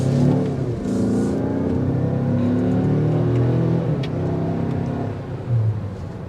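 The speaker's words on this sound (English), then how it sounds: "It's a throaty exhaust note. I mean, for a Turbo 4, it is pretty throaty." A 2023 Mazda CX-5 Signature turbo four-cylinder accelerates with a throaty exhaust note, its engine rising in pitch steadily from inside the cabin, with no talk.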